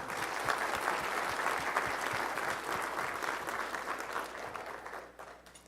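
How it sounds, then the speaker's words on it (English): Sustained audience applause at the CaseIT 2024 awards banquet, dense and even clapping from a large room that gradually tapers off at the end. "please join me in applauding yourselves for the dedication and the work you have all put in"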